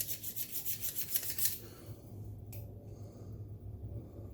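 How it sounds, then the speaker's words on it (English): A knife blade is rubbed across a sharpening steel in a few quick rhythmic strokes, a soft rasping scrape up close, followed by faint quiet room tone with one small tap. "Just rub it across a couple times just to get the burrs off of there and sharpen it up a little bit."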